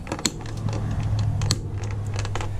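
A stiff furnace thermostat button in a 2014 Jayco Jay Feather SLX 16XRB travel trailer clicks sharply a few times, close and distinct over a low steady hum.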